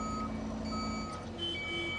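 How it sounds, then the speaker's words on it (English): A short horn tone from heavy equipment building a pond sounds over the steady rumble of its machinery, with a backup-style beeping tone sustained in the background. "He loves to honk that little horn."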